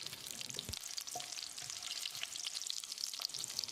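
Bay leaf, green chilies and shahi jeera frying in oil for vegetable biryani, a soft continuous sizzle with a few stirring scrapes and knocks near the start, quiet and close.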